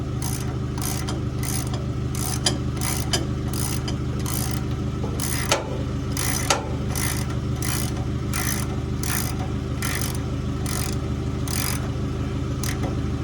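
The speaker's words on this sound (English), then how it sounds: "got my 9/16 on one side and my deep well on the other. We'll get it tightened down." Ratchet wrench with a 9/16 deep well socket tightening bolts on a Gleaner R72 combine's straw spreader, giving a steady run of rapid clicking ratchet strokes in repeated bursts, close and clear over a low mechanical hum.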